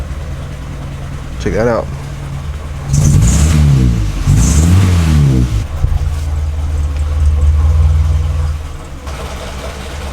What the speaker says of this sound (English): I'll just fire it up for you one last time.